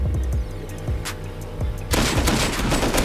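Rapid gunfire in the survival video game Rust: a string of sharp shots, then a dense, loud burst of continuous automatic fire near the end, with no talk over it.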